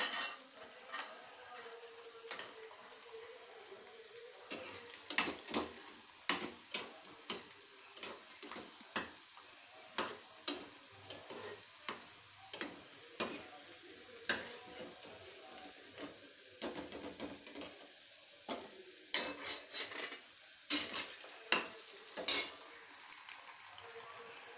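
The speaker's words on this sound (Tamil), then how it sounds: "இப்போ எண்ணெய் காஞ்சிட்டு வடவத்தை போட்டு பொரிச்சு எடுத்துரும்." Vadagam, sun-dried crisps, deep-frying in hot oil: a steady close sizzle and hiss with frequent sharp crackles and pops scattered throughout, no voices.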